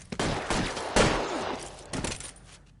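A volley of gunshots rings out in the video game LA Noire. Several sharp, loud bursts come in quick succession, with the heaviest shot near the middle, and a burst of shots follows shortly after, trailing into echo.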